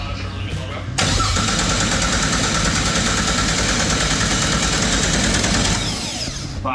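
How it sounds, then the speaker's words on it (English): A titanium Barra engine in an R31 car cranks briefly on its first start, then catches and roars loudly at high revs for several seconds before settling back down. "Hold the starter for a little bit longer."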